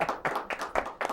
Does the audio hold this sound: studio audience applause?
yes